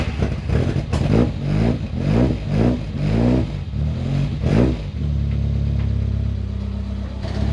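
A Toyota KE70 Corolla with a lumpy 4K engine revs in a series of about six rising and falling bursts, close and rough, before settling into a steady lower drone as it drives off.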